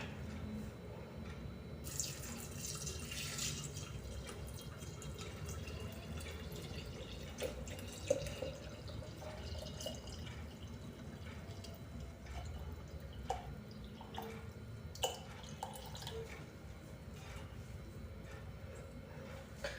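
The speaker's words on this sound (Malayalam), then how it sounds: "ഇനി നമുക്ക് നമ്മുടെ വെള്ളം ഇതിലേക്ക് ഒഴിച്ചു കൊടുക്കാം." Water pours and trickles into a jar while making homemade grape wine, a soft continuous splashing with occasional drips and clinks, close by and fairly quiet.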